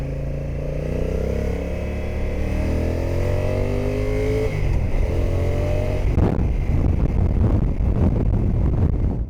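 A Honda NT 1100 or Kawasaki Versys 1000 SE motorcycle engine drones steadily, then the throttle is let go and the engine note drops away into a rougher, jerky idle with wind buffeting the microphone.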